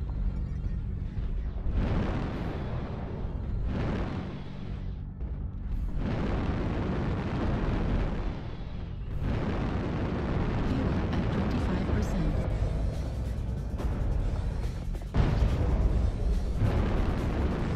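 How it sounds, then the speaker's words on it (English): Artillery strike explosions in a video game, a long run of heavy rumbling blasts rolling one into another with brief lulls, dense low booms filling the whole stretch. "Artillery strike online."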